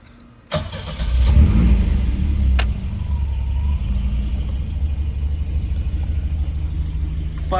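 A 1984 car with 409,000 miles on it cranks and fires up, the exhaust roaring in a brief rev before settling into a loud, steady, rumbling idle close by.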